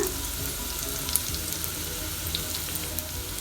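Sliced shallots and crushed ginger fry in hot oil for a Kerala-style fish curry, giving a soft, even sizzle with a few faint clinks and no voices.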